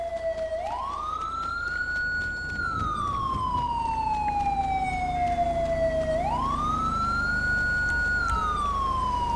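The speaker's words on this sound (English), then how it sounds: "Let me turn off my siren." A police car siren in the video game GTA V, LSPDFR police mod, wails loud and close, its pitch rising and falling in long, steady sweeps for the whole stretch, with no talking over it.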